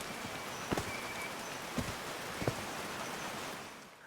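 Rain falls in the video game Call of the Sea, a soft, steady patter of drops with a few sharper, closer taps standing out, quiet and fading slightly toward the end.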